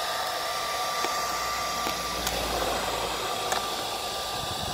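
A heat gun heats vinyl wrap on a rusty rear bumper, a steady close breathy whoosh of blowing air held unbroken throughout, with a few faint light ticks.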